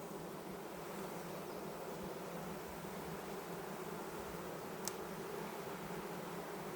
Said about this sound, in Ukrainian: Чуєте, як шублят?